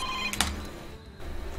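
A telephone rings in a brief electronic burst of tones, fairly loud at first, then giving way to a quieter gap and low background sound.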